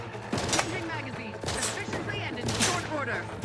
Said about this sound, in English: I hear gunfire. Who's shooting?